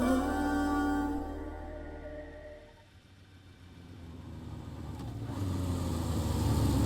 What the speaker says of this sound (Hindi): अरे सुन, बाइक रोकना।